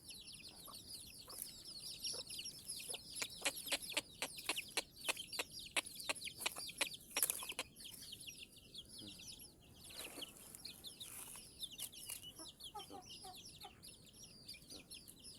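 Chickens, including young free-range native chicks, cluck and chatter repeatedly in a busy outdoor coop, with frequent short calls overlapping against a steady background of bird noise.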